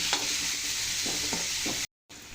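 Sliced onions with salt and turmeric sauté in a pan, giving a constant close sizzle with a few soft stirring scrapes, then a brief drop to silence before the frying resumes.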